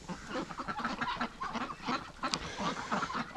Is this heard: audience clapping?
no